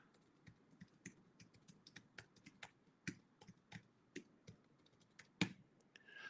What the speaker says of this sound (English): My typing is really poor.